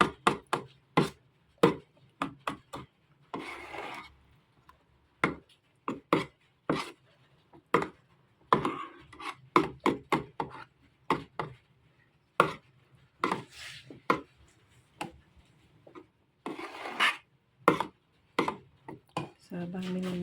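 Glutinous rice champorado with chocolate being stirred in a pot: sharp, irregular knocks and clacks of a utensil against the pot, close and distinct, with brief scraping between them and quiet pauses.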